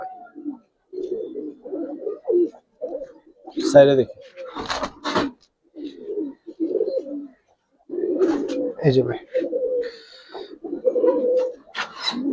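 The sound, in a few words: Giribaz pigeons cooing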